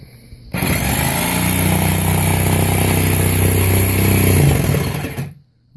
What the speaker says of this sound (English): Then we proceed to go ahead and cut out our circle that's on top of the barrel.